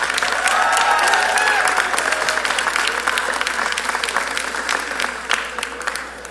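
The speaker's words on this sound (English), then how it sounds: "let's give them a round of applause" An audience of supporters applauds election candidates at an evening gathering, steady clapping with some cheering that stays loud throughout and tapers slightly toward the end.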